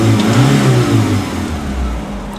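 A 54 hp VW Golf 2 engine revs up and settles back, a loud, close, rising and falling drone lasting a couple of seconds.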